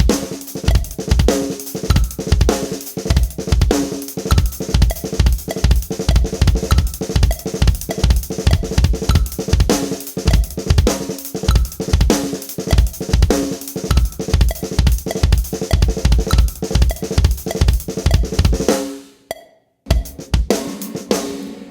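A linear drum pattern of 16th and 32nd notes at 100 BPM plays steadily, with rapid, even strikes that run for about nineteen seconds, then stop suddenly before a short tail.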